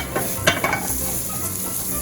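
Eggplant frying in oil as it turns golden in a Japanese beef tenderloin and spicy miso dish, a loud close hiss of oil with a couple of quick utensil knocks early on, no voices.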